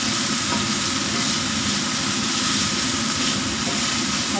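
Minced pork frying in a pan for a Chinese-style soft tofu dish, heard as a steady, loud, continuous sizzle that runs without a break and without talking.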